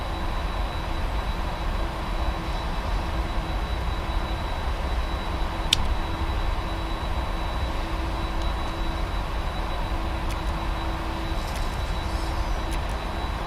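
Airliner engines drone steadily while the jet taxis at London Heathrow (EGLL) in a flight simulator game, a continuous close hum with a faint whine and no voices.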